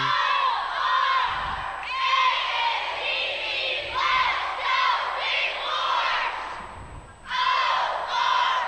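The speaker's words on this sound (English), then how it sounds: "Getting ready to do a crowd cheer here, getting the crowd back into their routine." Crowd cheer at a high school competitive cheerleading state preliminary meet, a squad shouting rhythmic chanted calls in unison with loud bursts of crowd noise and a few thumps in between.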